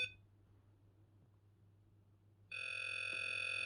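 A Para4ce SpiritPod ghost hunting device held near its antenna first hisses faintly with low static, then bursts into a loud, steady electronic tone that holds to the end.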